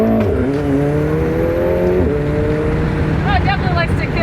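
A McLaren press car doing donuts on a dirt lot, its engine revving loud and close with rising and falling pitch sweeps, while people talk over it and the revs climb steeply toward the end.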